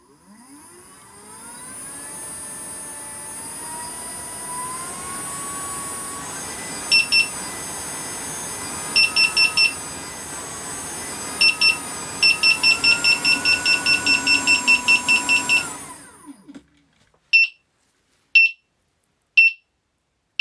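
A Begode Master electric unicycle with 40T cells at 63% battery, its motor spun up to top speed: a loud, rising electric whine that holds steady, punctuated by rapid bursts of high beeping alerts, then cuts off while single beeps continue alone.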